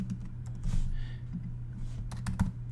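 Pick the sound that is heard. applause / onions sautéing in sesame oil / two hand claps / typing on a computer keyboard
typing on a computer keyboard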